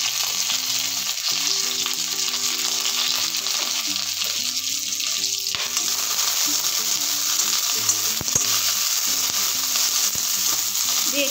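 Mustard seeds, green chillies and curry leaves crackle and sizzle in hot oil in a pan for a home-cooked lunch, a loud constant frying hiss with occasional stirring clinks and a tonal hum underneath.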